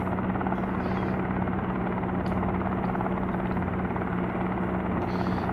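A helicopter flies in the Helicopter Simulator video game during the tutorial levels. Its rotor and engine make a loud, continuous, steady hum and drone with a low tone throughout, and no voices are heard.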